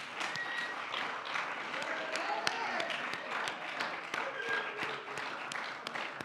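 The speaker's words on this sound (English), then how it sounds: "give a real hearty round of applause for Kate" A school awards ceremony audience applauds steadily for a middle and high school honoree, dense sustained clapping with a faint voice beneath.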